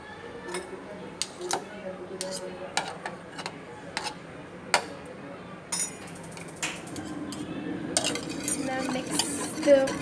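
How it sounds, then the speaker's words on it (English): Cupcake batter mixed with egg in a bowl, with a utensil clinking and scraping against the sides in irregular taps and sharper knocks, fairly close, while a person talks over it. "Now mix the batter with the egg, but mix it very fluffy, very goodly."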